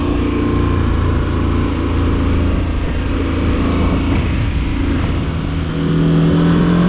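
A KTM 1290 Adventure S 2023 motorcycle engine revving close by, a loud, continuous throaty drone with shifting pitch and steady intensity, no voices over it.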